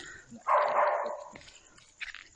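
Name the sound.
puppy barking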